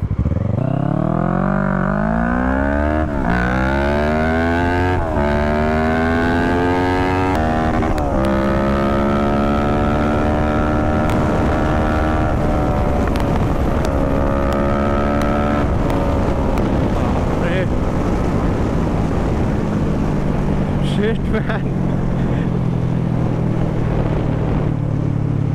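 A Kawasaki Z650 motorcycle accelerates hard from 0 to 150 km/h, its engine note climbing steeply through several gear changes with brief dips between shifts, loud and close under heavy wind noise, then easing off toward the end.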